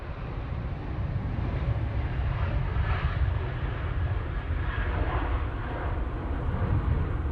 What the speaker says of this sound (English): there goes that Jet2 off to Faro